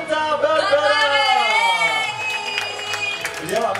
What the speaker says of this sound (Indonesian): tepuk tangan yang meriah juga untuk Ibu Samantha Barbara